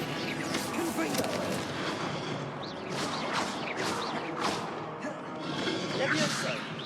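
Repeated Confringo fire-spell blasts from the Hogwarts Legacy video game, crackling explosive bursts during a busy fight, with a player talking over the steady combat noise.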